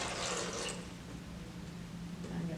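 Cold water poured into the back reservoir of a coffee machine, a steady close splashing trickle running without a break for a few seconds.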